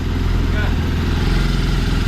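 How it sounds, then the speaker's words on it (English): A Wildcat engine with a clutch issue idles close by in a steady, even, low rumble with a regular pulse and no change in speed. "It's idling."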